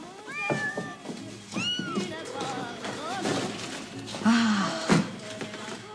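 A cat meows several times indoors, with drawn-out rising and falling cries mixed with people talking, plus a louder, lower yowl near the end.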